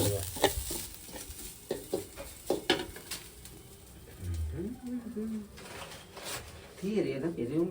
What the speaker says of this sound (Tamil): தேங்காயை வந்து உள்ள தட்டி என்ன செய்யணும், நல்லா வறுக்கணும்